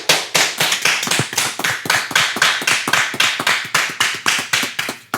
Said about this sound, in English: Everyone's clapping outside.